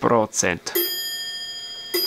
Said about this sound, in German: Da läutet die Glocke, Leute.